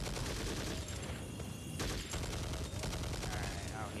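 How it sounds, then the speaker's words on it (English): Dense infantry gunfire in Conflict: Global Terror, sustained rapid shooting mixed with game noise at a steady loud level, with voices shouting over it. "Contact! Infantry fire!"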